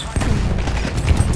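A BAR automatic rifle fires in the video game Battlefield 1, a loud, close, rapid rattle of shots with heavy low boom, packed into a brief burst.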